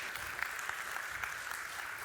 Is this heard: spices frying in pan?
no